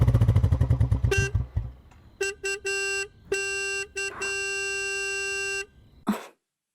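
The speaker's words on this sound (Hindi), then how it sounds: "देखो कोई बाहर हॉर्न बजा रहा है" An engine sputters briefly, then a car horn honks in a series of bursts, short and long, loud and close, ending abruptly.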